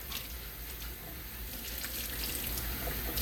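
Water pours steadily from a heavy seven-gallon jug in a home kitchen, a continuous rushing stream that holds an even level throughout with no voices.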